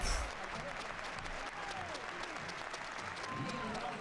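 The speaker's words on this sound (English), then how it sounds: "He'll go off to a round of applause" Football stadium crowd applauding during a Girona versus FC Barcelona LaLiga match, a steady wash of distant clapping and crowd noise filling the background, with a commentator talking over it.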